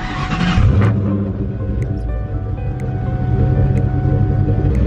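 Ford Mustang with a Coyote 5.0 V8 fires up after a brief burst of starter noise, then settles into a steady, loud, close-up idle with a deep, even drone.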